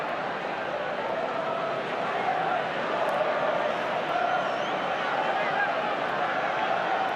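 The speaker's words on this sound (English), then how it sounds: "A lot of input from the crowd" Dense, steady crowd roar from the stands at a Rugby World Cup pool match between Australia and Ireland, a continuous broad wash of voices that never drops away.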